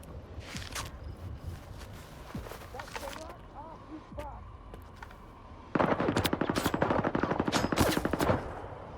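Rapid automatic gunfire bursts in Stalker 2, with scattered shots early and then a loud, sustained burst near the end, with someone talking over parts of it.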